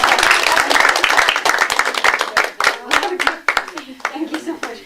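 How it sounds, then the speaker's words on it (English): A church audience breaks into a lively round of applause, loud, close clapping from many hands that gradually thins into scattered individual claps, with voices talking and calling out underneath. "Can we have a huge round of applause?"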